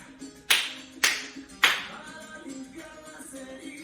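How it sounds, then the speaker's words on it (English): Three distinct hand claps from a senior Latin dance class ring out in even succession, sharp and close, followed by quieter background music. "Give me 3 claps."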